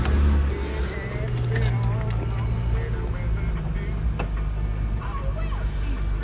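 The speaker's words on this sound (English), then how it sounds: "I'll just pop the roof up for you now." Folding roof of a 2010 Mercedes SL 300 convertible with a glass panel, opening with a steady mechanical whir and low hum that runs continuously, close and fairly loud throughout.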